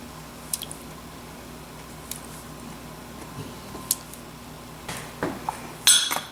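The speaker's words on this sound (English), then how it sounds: "We're just going to mix that up. Until it's all moistened." Buttermilk being stirred into cherry cobbler batter in a bowl, soft wet squishing with occasional clinks of a utensil against the dish that grow louder and more frequent toward the end.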